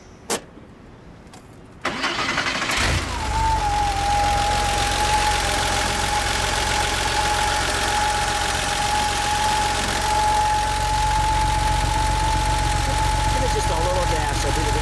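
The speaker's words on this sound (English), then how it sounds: "We'll get a little exhaust note." A 1989 Porsche 911 Carrera Targa cranks and fires up, settling into a steady, loud idle with a droning exhaust note that runs on continuously after the start.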